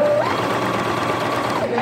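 Sewing machine stitching fabric around the edge of a baby hygiene kit piece: a loud, continuous close mechanical whir with a steady rapid rhythm throughout.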